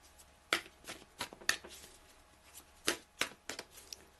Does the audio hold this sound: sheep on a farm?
no